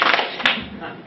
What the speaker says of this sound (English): When I say 4, should clap.